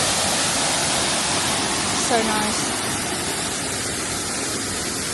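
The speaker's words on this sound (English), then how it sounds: "We've made it to the first waterfall." Cunca Pilas waterfall near Labuan Bajo, Indonesia, roars as a steady, loud broadband rush of falling water, with a brief spoken remark rising over it midway.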